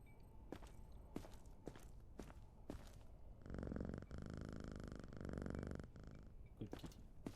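A cat purring as it is petted in the video game Quarantine Zone: The Last Check, a steady, close rumbling purr lasting a few seconds in the middle, set among soft footstep-like taps.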